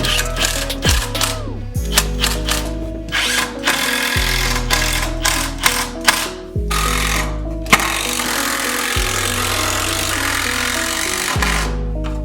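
A power drill drives screws into a wooden skateboard rack in close, loud bursts, each rising whine ending with a clunk, repeated about six times with brief pauses between.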